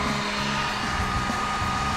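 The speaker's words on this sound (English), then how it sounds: "Got my broken heat gun." Steady, loud broadband blowing roar of a heat gun speed-drying fresh paint on car parts, continuous and close without pauses, no voices.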